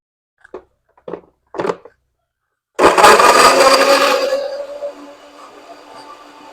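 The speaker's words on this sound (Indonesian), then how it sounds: "Oke, kita blender." After a few soft taps, a blender grinding spices and toasted coconut roars to life loudly, grinding steadily for a couple of seconds before winding down to a quieter whir.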